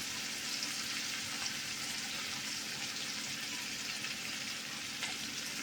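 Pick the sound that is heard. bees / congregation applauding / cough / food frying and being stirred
food frying and being stirred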